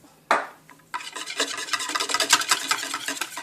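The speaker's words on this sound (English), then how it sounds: "And whisk it quickly to avoid any clumps." A whisk beats low-carb paleo flatbread batter flavored with oregano and basil in a bowl: one soft tap, then a quick, steady, close-up scraping and rasping that grows slightly louder and continues without speech.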